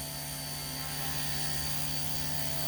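A Blade Nano S3 collective-pitch RC helicopter hovers nearby, its small rotor and motor making a steady, loud high-pitched whine with a constant buzzing tone and no pauses.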